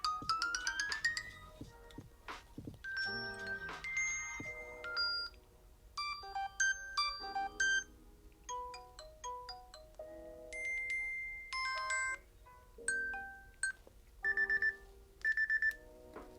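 Ringtone previews from a Samsung Galaxy Watch 4 Classic play one after another, a busy run of chiming electronic melodies and beeps, close and clear with no talking.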